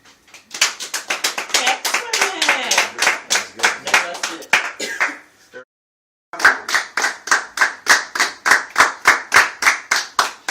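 A run of sharp, regular hand claps close by, continuing for several seconds, breaking off briefly, then resuming in a steady rhythm, after an informative speech on suicide.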